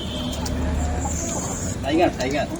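Tiger breed chickens on a farm give short clucks and faint calls close by, partly under a person talking and low background noise.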